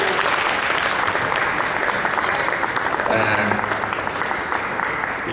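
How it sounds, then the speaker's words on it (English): A press conference audience applauds steadily and densely for about five seconds as two Romanian representatives are welcomed, with voices talking over the clapping throughout. "Let's give a nice round of applause."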